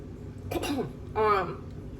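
Two close, raspy coughs in quick succession, the second longer and harsher, with quiet before and after.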